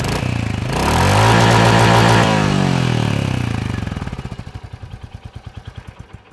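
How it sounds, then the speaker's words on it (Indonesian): A 2023 Royal Enfield Hunter 350 with a fuel-injected single and a Scorpio-like exhaust rises through a loud, close rev, then settles into a steady thumping idle with distinct rhythmic pulses, no voices. "Suara depan dari knalpot itu khas banget, mirip kayak Scorpio ya knalpotnya ya"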